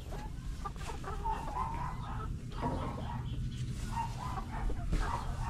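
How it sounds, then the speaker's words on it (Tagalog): Four-month-old chickens cluck softly in a backyard pen, low, overlapping murmurs and clucks continuing throughout at a fairly quiet level. "Dito naman tayo sa ano, sa mga 4 months old ko na manok"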